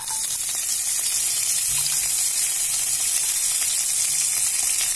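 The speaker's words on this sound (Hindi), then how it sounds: "और हम लहसुन को भून लेंगे।" Garlic fries in a spoonful of oil in a kadai, a loud, close, continuous sizzle that holds steady with no talk over it.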